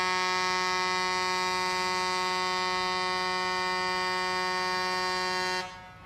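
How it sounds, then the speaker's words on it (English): A long, steady electronic beep holds at one pitch for about five and a half seconds, loud and alone, then cuts off abruptly. "here comes the beep"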